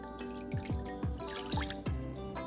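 Water splashes into a shallow lidded pan in a series of distinct plopping drops, arriving roughly every half second, close and clear.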